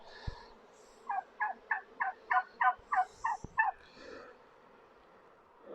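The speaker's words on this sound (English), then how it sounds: "And that's not an audio we've put on, there is some turkeys behind you." A turkey gobbles nearby behind a beehive at an apiary, a rapid rattling burst of about nine pulses lasting a couple of seconds, clear and fairly close, with faint outdoor background around it.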